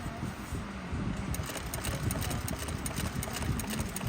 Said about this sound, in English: I'm going to sew these together and then French sewing them